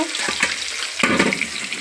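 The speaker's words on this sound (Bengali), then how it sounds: "এই যে মাছ ভাজা করছি" Fish frying in a pan for a Bengali fish curry, a close, dense crackling sizzle with a few louder spits and pops throughout.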